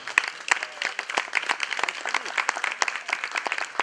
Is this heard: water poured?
no